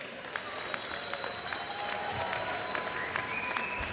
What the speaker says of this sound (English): let's give a big round of applause for both of these gladiators.